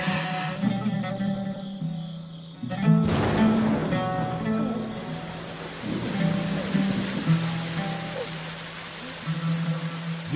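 Rain falls as a steady broadband hiss beneath sustained low musical tones, swelling and easing in moderate loudness over several seconds.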